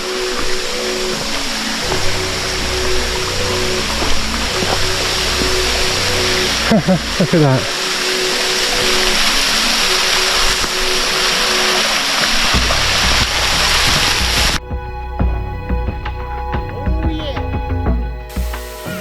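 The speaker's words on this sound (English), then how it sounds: "This is like a real waterfall." Water pours over jasper stone at Jasper Creek waterfall in Gran Sabana, Venezuela, a steady close rushing spray throughout, with a brief spoken remark and some handling knocks.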